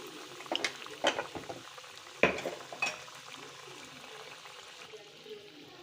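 Tempering in a hot pan with chana dal, urad dal, seeds, turmeric, dry red chillies and curry leaves for an onion spice chutney. Faint sizzling under soft clinks and scrapes of a spoon against the pan, with a few sharper taps.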